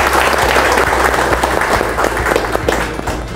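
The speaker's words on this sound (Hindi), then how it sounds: "रंजन जी के लिए पहले जोरदार तालियां हम बजाएंगे" People at a corporate workshop give a speaker a loud, sustained round of applause, dense and continuous, tapering off slightly near the end.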